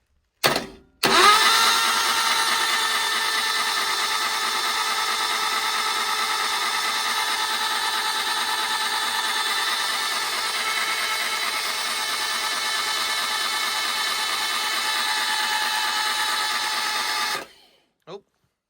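A 1200 sand cast Hillman Imp engine spun over continuously to prime the oil, a steady loud mechanical churning held for about sixteen seconds before cutting off.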